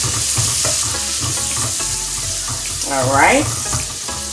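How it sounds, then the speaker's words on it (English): Onions and peppers sauté in a pan with a steady, close sizzle and hiss, broken by a few spoken words, and a bit of stirring near the end. "let's saute off our onions and peppers"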